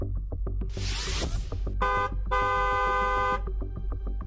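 Several short horn honks sound one after another, with a longer blaring toot and a brief hiss of noise mixed in over a steady rumble.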